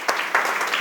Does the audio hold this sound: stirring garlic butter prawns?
no